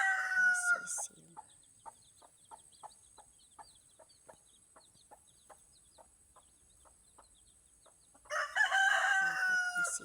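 A hen with four chicks clucks and peeps in a quiet yard, the soft calls coming in a steady rhythmic series, with louder bursts of calling at the start and the end.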